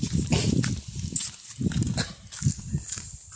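Several dogs bark in short, rapid, overlapping yaps at close range, with a voice briefly heard among them.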